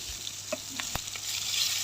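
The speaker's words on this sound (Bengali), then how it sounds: "দুপুরে রান্নায় মাছ ভাজা" Fish belly pieces fry in a pan on a home stove, a continuous bright sizzle with a few soft clinks and stirring taps, close and steady, with no voices.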